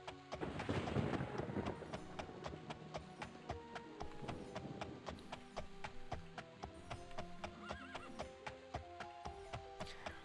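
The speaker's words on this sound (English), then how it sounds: "Ride over to the castle" Rapid clip-clop of horse hooves while riding in The Elder Scrolls II: Daggerfall, a steady galloping rhythm with a neigh near the start, set against background game music at low volume.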